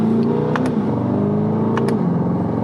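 A 2020 C8 Corvette accelerates hard in manual mode, the engine note climbing in pitch through the gears with a quick shift near the end, heard from inside the car without talk.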